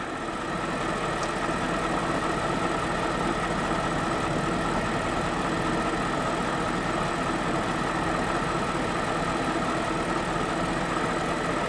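A BMW X5 engine idles steadily while warming up, a continuous low rumble with a faint mechanical ticking, close by and with no voices throughout.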